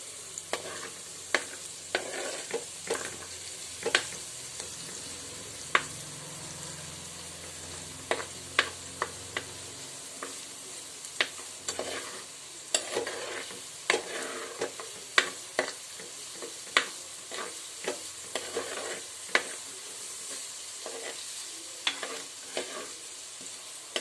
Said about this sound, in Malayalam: നന്നായിട്ടൊന്ന് ഇളക്കി കൊടുത്ത് വഴറ്റിയെടുക്കണം